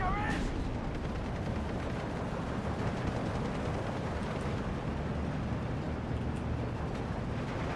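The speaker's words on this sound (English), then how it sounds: "Got snipers firing at the other one." Sniper team firing in the Steel Division 2 war game, amid a dense, continuous roar of battlefield noise and distant gunfire, with a brief whistling tone at the start.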